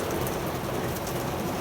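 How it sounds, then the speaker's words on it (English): Rain falls steadily and heavily outdoors as a dense, continuous hiss, with drops pattering on surfaces and no voices. "it started raining on them"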